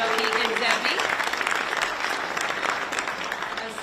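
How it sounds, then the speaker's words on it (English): An audience at a Washington, D.C. event applauds the Gallery Place Chinatown co-chairs, a dense steady round of clapping from a crowd with voices mixed in. "Give those ladies a big round of applause."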